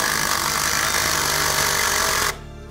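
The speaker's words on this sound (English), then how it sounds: "we're gonna set the self-tapping screw" A loud, continuous power-tool whir drives a self-tapping screw into a pre-drilled steel beam for about two seconds, then cuts off abruptly, leaving a quiet hum.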